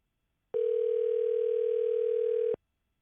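A steady electronic telephone ringback tone plays while a call goes out, a single unbroken two-second tone that starts and stops cleanly in otherwise quiet surroundings.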